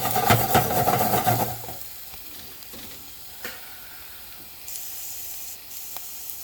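Vegetables cooking in a pan over medium heat give a loud spattering sizzle at first that settles into a soft, steady simmering hiss, with a few faint clinks and a brief higher hiss toward the end.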